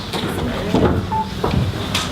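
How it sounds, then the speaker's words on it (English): A door is pushed shut in a community meeting hall, giving a couple of muffled knocks and a thud among murmuring voices and room noise. "Shut that door."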